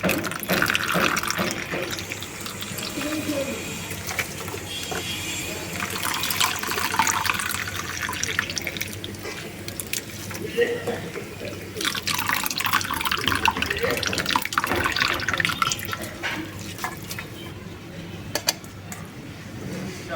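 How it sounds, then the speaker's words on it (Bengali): Water splashes and drains steadily from freshly cut bottle gourd pieces being strained in a kitchen, a continuous close trickling and pouring throughout with no talk. "একদম ভালো করে জল ঝরিয়ে তুলে নিতে হবে"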